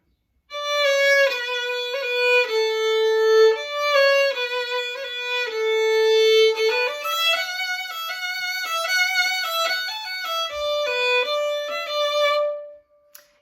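A solo violin plays the bridge of a song with sustained, singing notes and smooth slides between them, close and clear, ending on a held note.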